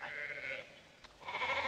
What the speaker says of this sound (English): No, those are sheep.